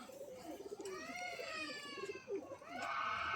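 Pigeons coo at a pigeon sale near dusk, soft and somewhat distant, with a continuous tonal warble layered over the low calls.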